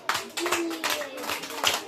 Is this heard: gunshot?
no